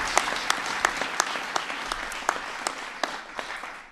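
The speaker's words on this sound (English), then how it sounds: "That's worth applauding." Audience applauding during a presidential speech on insourcing American jobs, a steady spread of many claps with a few sharp louder ones, gradually tapering off.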